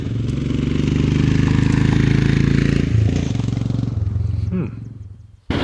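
Motorcycle ridden off-road on an unmapped track in open country: a close, pulsing engine throb runs steadily with some rattle, then fades and dips sharply near the end before briefly resuming.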